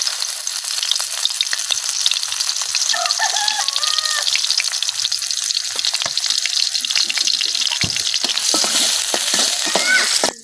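Chopped onion fries in hot oil in a wok in a village kitchen, giving a loud, steady sizzle close up, with faint bird calls in the background.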